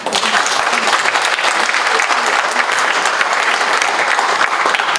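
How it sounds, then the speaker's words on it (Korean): An audience applauds at a Korean defense industry society seminar and awards ceremony, with dense steady clapping that stays loud and even for the whole stretch, close and continuous. "우리 감사히 박수 한번 좀 주세요."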